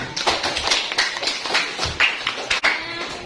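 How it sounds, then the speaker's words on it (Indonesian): A classroom of students in an Indonesian lesson claps together. The clapping is brisk and fairly close, with distinct individual claps forming a rhythmic patter that lasts about three seconds. "Tepuk tangan dulu buat kita semua"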